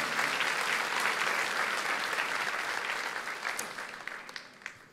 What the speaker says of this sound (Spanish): ¿Le puede dar un aplauso a todas las personas que están, los hermanos, escuchando y viéndonos?